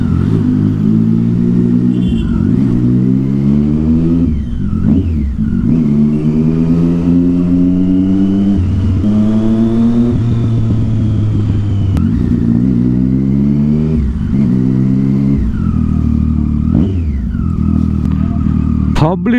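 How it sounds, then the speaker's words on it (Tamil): A Triumph Street Triple superbike with a loud aftermarket exhaust revs and rides along on a public street, its harsh engine note rising and falling in repeated pulls, with faint voices in the background. "யோ நார்மலாக ஓட்டினாலே இப்படி சவுண்டு வருது இந்த எக்ஸாஸ்டில்."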